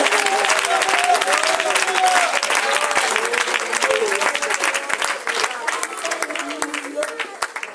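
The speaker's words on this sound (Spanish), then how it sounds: "Fuerte ese aplauso para él, por favor" A church congregation applauds a preacher with steady, dense clapping that fills the whole stretch, while voices carry on over and under it.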